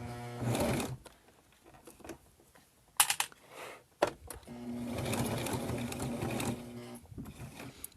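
A sewing machine runs at a long stitch length through fabric while making a mini wallet, in stop-start bursts: a short run, a pause with clicks and handling, then a longer steady whir.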